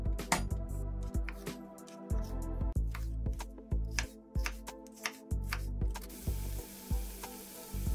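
Chopped red and yellow sweet peppers go into a pan of vegetables and are stirred, giving irregular scraping and clattering knocks over a steady low hum and soft sizzle.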